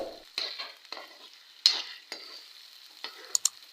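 Finely chopped onions sizzle in a pan as a spoon stirs them, with a steady frying hiss under scattered scraping knocks and a couple of sharp clinks near the end, close up with no speech.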